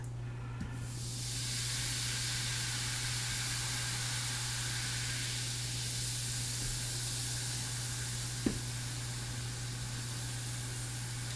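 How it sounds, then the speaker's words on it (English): A Magic Mixies Mixlings cauldron toy fizzes with a steady, airy hiss that runs unbroken for over ten seconds over a low constant hum, with a small click near the end. "that fizzy sound is very satisfying"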